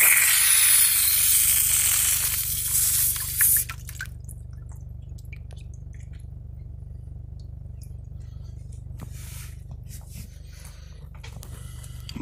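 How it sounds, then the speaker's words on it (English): Water rushing back into a newly repaired line installed with a trenchless pipe-splitting tool, a loud hiss for a few seconds that drops to a low steady flow with faint drips. "Okay, time to turn the water on."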